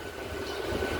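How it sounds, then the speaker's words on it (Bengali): An EMU local train on the Howrah–Digha line pulls out of Ashapurna Devi station, a low steady rumble of rolling wheels heard from on board with no talk. "আশাপূর্ণা দেবী রেলওয়ে স্টেশন থেকে আমাদের ট্রেন ছেড়ে দিল"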